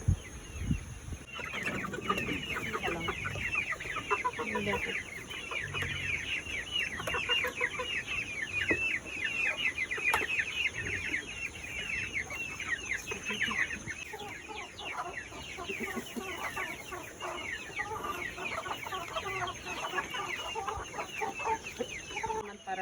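Chickens cluck continuously nearby, a dense busy chorus of farmyard birds with no talking.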